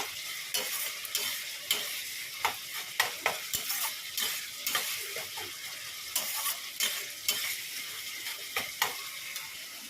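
A spoon stirs and fries onion, garlic and green chilli masala in a pan for an egg and soya chunk curry, scraping in a steady run of sharp strokes over a continuous sizzle, close, with no voices.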